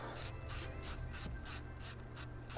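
A ratchet wrench on an extension loosens a fuel injector bracket bolt on a BMW 335i N54 engine, giving a quick run of about nine evenly spaced, sharp clicking bursts, close up and alone.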